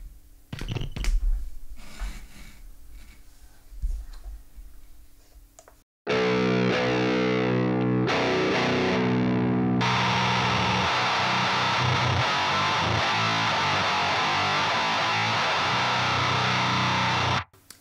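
An electric guitar played through a Boss HM-2 distortion pedal, with quiet handling noises and clicks at first, then a sudden loud, saturated, buzzing chord that rings steadily for about twelve seconds before cutting off.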